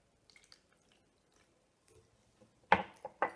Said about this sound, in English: Then I pour the water into the container